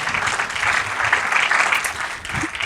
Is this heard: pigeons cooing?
no